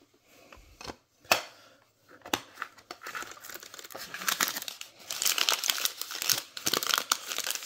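Gingham-patterned paper from an LOL Surprise Mini Sweets Surprise-O-Matic Series 2 blind bag crinkling and crumpling up close, beginning with a few sharp separate rustles, then turning into dense, continuous handling noise.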